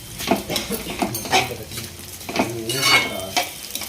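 Semiya upma being stirred in a metal pan, a spoon scraping and clinking against the sides in an uneven rhythm over a soft sizzle, close and fairly loud with no talking.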